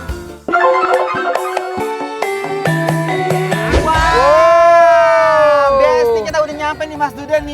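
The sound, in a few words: crowd at busy breakfast eatery in Jogja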